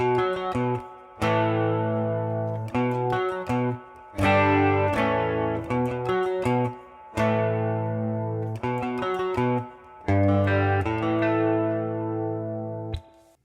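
Guitar plays a verse riff, a repeating pattern of strummed and picked chords in steady phrases with short gaps between them, heard alone with no voices.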